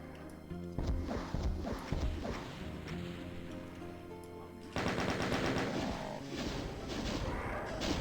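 Rapid gunfire and explosive blasts from the video game Doom (Master Levels) during a fight with Mancubi, dense continuous shots that intensify midway, loud and close with no talking.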